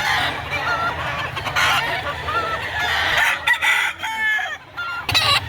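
Roosters crowing loudly and repeatedly close by at a chicken market, overlapping calls amid a busy background of other fowl and clucking.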